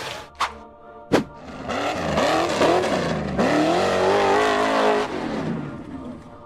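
Red off-road buggy engine revving hard while climbing a rough dirt slope in a forest, a loud sustained roar with rising and falling pitch, preceded by a couple of sharp knocks or bangs.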